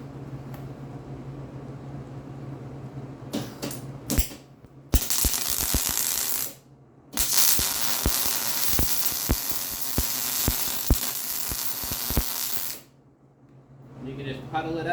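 Welding on a 1946 Willys flatfender Jeep, puddling the bead: bursts of crackling, hissing arc noise start and stop several times, loud and close, with a low steady hum in the pauses.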